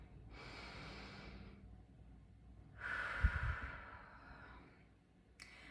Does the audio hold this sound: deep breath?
yes